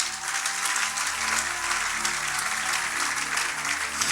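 A church congregation applauds and cheers loudly during a sermon, with dense, sustained clapping and crowd noise that continues steadily throughout.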